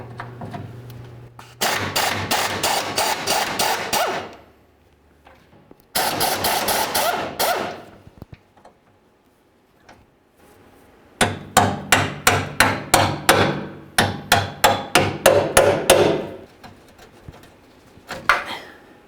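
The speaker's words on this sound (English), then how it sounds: "we'll remove the bolt from the rearward side" Fuel tank strap bolts being removed on a Chevy S-10 pickup, with bursts of rapid, loud ratcheting or impact-tool clicks in repeated runs, separated by pauses and short taps.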